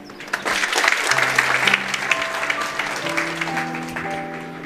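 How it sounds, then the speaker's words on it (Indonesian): A church congregation breaks into loud, full applause during a Sunday worship service, dense clapping carrying on throughout while sustained organ or keyboard notes play underneath. "Tepuk tangan"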